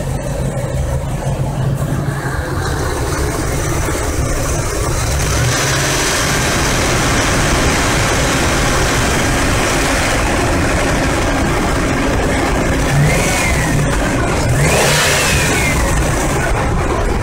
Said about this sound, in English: fire up the truck, see how smooth she runs